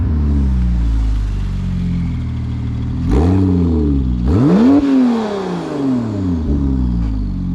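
A Porsche 911 Turbo with a straight-piped exhaust idles with a deep burble, then revs sharply twice in quick succession, each rise and fall loud and close, before settling back to idle.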